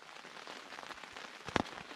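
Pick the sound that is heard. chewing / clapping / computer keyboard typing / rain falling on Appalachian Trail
rain falling on Appalachian Trail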